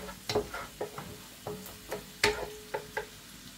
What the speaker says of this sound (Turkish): Soğanlarımız biraz pembeleşene kadar kavuracağım. 3 diş de sarımsağımı ilave edip onu da biraz kavuracağım.